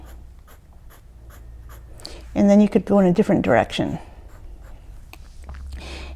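Pencil on paper makes rapid rhythmic scratching strokes of hatching and cross-hatching, quiet and close, with a person speaking over the middle of the strokes.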